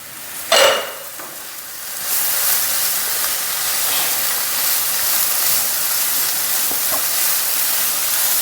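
Colocasia shoot stir-fry (thoran) is stirred in a pan, a scrape followed by a steady close sizzle and frying hiss that continues throughout.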